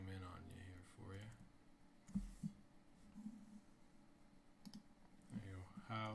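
Keys clicking on a Mac keyboard as a Google search is typed, a short run of light taps between stretches of someone talking.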